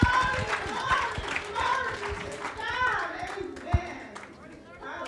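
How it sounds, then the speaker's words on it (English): A revival church congregation claps in lively, uneven bursts while voices call out and sing over the top of the clapping. "Would you give him a hand clap tonight?"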